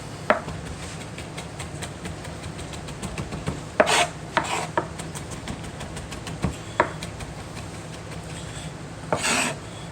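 Knife chopping garlic finely on a cutting board, irregular close taps and scraping strokes with a few louder chops standing out, no voices.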